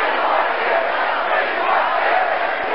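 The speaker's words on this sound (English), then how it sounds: "The crowd is frantic here." Simulated stadium crowd noise from a Strat-O-Matic baseball video game, a steady roaring wash of cheering that stays at an even, fairly loud level throughout.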